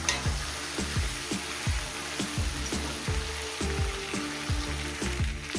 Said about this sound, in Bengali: সবজিটাকে যত সুন্দর করে ভাজবেন দেখবেন ততটাই টেস্টি হয়